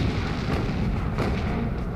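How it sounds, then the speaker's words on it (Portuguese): The 127 mm naval guns of the USS Laffey open fire against an attacking bomber, giving a loud, dense wall of rumbling booms and overlapping blasts with no voices. "Os canhões de 127 milímetros do USS Laffey abrem fogo."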